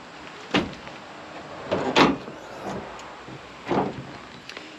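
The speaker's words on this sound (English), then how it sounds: "let me show you how easy it is to take these panels off" Diamondback bed cover panels being lifted off a Toyota Tacoma pickup bed, making several hollow knocks and scraping clunks spaced over a few seconds, close by with no talking.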